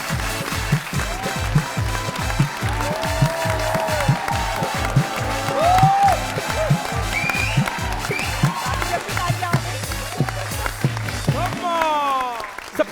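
A studio audience applauds to welcome Sunita Marshall on a TV talk show, clapping and crowd noise mixed under a pounding, rhythmic music beat and a voice, the music cutting out near the end.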